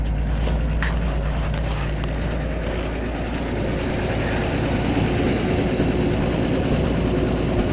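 A 1985 Toyota Cressida engine idles after a cold start, giving a steady, close, low rumbling drone that holds even throughout with no talk.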